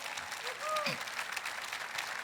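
A church congregation claps together during a French-language sermon: faint, steady, dense applause running throughout, with a brief voice rising over it.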